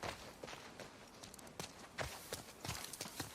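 Horse hooves walking in the video game The Last of Us Part II, an irregular run of soft clopping steps over a faint ambient bed, with no talking.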